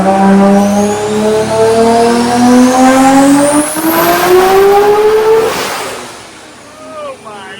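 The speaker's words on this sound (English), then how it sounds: "That turbo should probably make 50-ish pounds of boost on this dyno with that setup." A turbocharged Toyota Supra rat rod engine revs hard on a dyno, its loud, close pitch climbing steadily for several seconds before cutting off, with turbo whine and a shout at the end.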